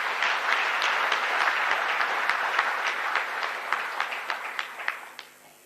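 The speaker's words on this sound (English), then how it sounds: "Clap for the engineers again" Audience clapping for engineers at an official opening ceremony of an engineering institution's annual meeting and symposium in Zambia, a sustained round of applause with sharp individual claps standing out, fading away toward the end.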